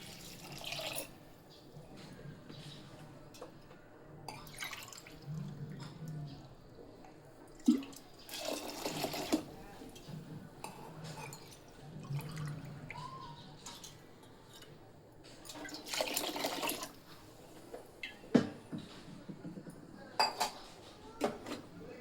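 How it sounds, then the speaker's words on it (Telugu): Water is poured over washed dal in a pot for cooking toor dal with amaranth greens, with clinking of vessels and utensils and splashing bursts rising and falling over a steady background. "దీనికి కావాల్సినంత వాటర్ అయితే వేసేసుకుందాం"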